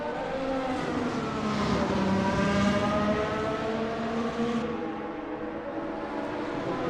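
Race cars in a virtual racing video game, including McLaren and Aston Martin liveried cars, roar continuously with engines rising and falling in pitch as they pass, loud and close with no talk.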